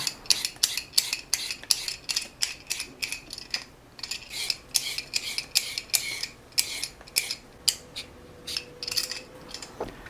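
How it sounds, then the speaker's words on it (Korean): Vegetable peeler scraping the skin off 1 kg of autumn radish, a quick run of sharp rasping strokes in an uneven rhythm, close and clear, with no talking. "무 1kg의 껍질을 필러로 벗깁니다."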